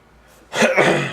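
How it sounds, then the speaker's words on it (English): A person coughs once in a short, loud, breathy burst after a quiet lead-in, while recovering from a cold. "Pardon my coughs there, I just got over a cold"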